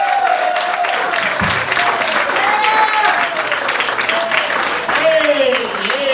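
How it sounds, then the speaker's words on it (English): Loud, sustained applause from a stand-up comedy audience fills the whole stretch, with a dense steady roar of clapping as a comedian is welcomed to the stage, while a voice speaks over it. "Please, give me a round of applause for Mr. Jason."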